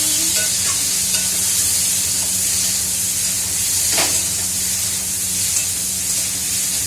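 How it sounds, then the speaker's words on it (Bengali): Mixed vegetables, including cauliflower, fry in a pan with a steady broad sizzle and hiss, stirred throughout, with one brief scrape near the middle. "এই যে ভাজা ভাজা হচ্ছে সবজি।"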